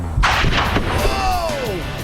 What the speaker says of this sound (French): On va déclencher la deuxième explosion à 20 mètres.